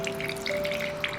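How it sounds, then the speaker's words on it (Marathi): Water drips from a cloth bundle of strained curd being hung to make chakka for shrikhand, a few faint, soft drops falling close by over a quiet steady hum. "हे बघा, कपड्यातून पाणी गळतंय सगळं."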